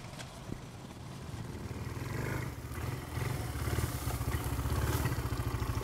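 A Sachs 650 big four-stroke single motorcycle rides along country lanes, its engine note a steady, continuous drone that builds gradually in loudness over a few seconds, heard alone without talk.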